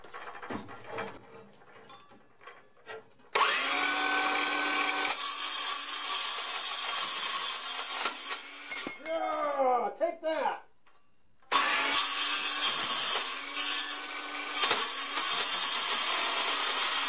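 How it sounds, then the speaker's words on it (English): Steel being cut with a cordless power tool, two long, loud, harsh grinding bursts separated by a brief pause, with excited voices heard early and between the cuts. "I don't know if that's the correct RPM for cutting steel or not, but it's strangely satisfying"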